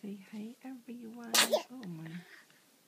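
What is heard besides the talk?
baby raven sneezing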